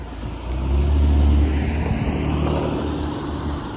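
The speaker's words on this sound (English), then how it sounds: "Car." A car passes along a street on a cold fall day in Ottawa, a low engine and tire rumble swelling near and loud in the first second or so, then easing off as it moves away.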